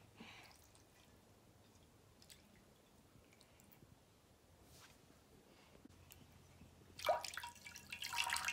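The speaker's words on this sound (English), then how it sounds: "Now I will add 3 cups of water." Water poured from a cup into a large container of water beads, a faint wet trickle and soft squishing that swell into a louder splashing pour near the end.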